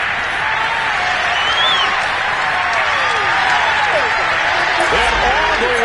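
Stadium crowd roaring and cheering after a touchdown in a PS5 football video game, a dense, steady wall of crowd noise with some faint whistling and voices mixed in throughout.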